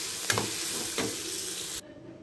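Curry leaves and tamarind sautéed in a hot pan for a veld grape chutney: a loud, steady sizzle broken by two quick stirring scrapes, then it cuts off abruptly.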